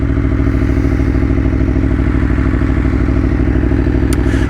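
Aprilia Tuono V4 1100 engine runs close and loud, a steady, even V4 throb with a fast regular pulse, no talk, and a brief faint squeak near the end.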